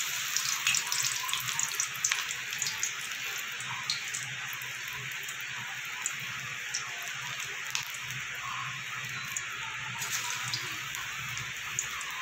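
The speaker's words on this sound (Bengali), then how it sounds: "এইরকম চ্যাপটা চ্যাপটা বড়া সেপে আমি ভেজে নেব" Flat kulekhara leaf fritters (bora) frying in hot oil, a continuous close sizzle with scattered pops and crackles and no one speaking.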